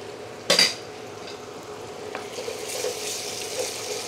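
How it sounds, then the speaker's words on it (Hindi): Ginger garlic paste stirred and fried with onions in a pan for jackfruit sabzi: one sharp ladle scrape and clatter near the start, then a steady soft sizzle with faint stirring scrapes. "इसे प्याज में मिलाकर भूनते हैं 2 से 3 मिनट मध्यम आंच पर।"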